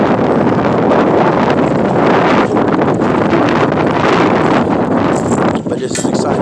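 Strong outdoor wind buffeting a microphone on a very windy day by the water while fishing, a loud continuous roaring rumble throughout, with someone talking underneath.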